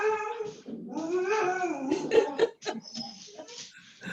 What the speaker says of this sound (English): My dog's getting very excited.